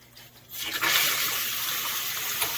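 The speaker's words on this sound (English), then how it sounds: "We're still draining a little bit here." Water rushes out of a residential water pressure tank being drained during a DIY replacement, starting abruptly after a brief quiet moment and then running as a steady, loud, close hiss-like flow.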